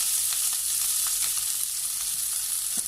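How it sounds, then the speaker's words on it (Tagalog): Spring onion sautéing in about two tablespoons of cooking oil, a loud, dense, continuous sizzle with faint crackles and no talk. "we are going to saute first our spring onion"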